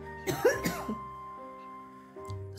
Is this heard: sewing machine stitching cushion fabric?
no